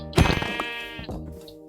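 A sheep in a survival video game gives one loud, wavering bleat near the start, then a softer, drawn-out trailing bleat fades away, with no talking.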